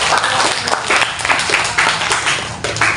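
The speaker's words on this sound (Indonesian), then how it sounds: "Beri aplaus dulu." A room audience claps steadily in continuous applause throughout, dense and fairly loud with no voices over it.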